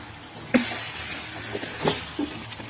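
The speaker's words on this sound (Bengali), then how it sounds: "একটু পানি দিচ্ছি।" Water is poured into a pot of whole chicken roast (murg musallam) with green chillies, setting off a sudden loud hiss that settles into a steady close sizzle with a few small crackles.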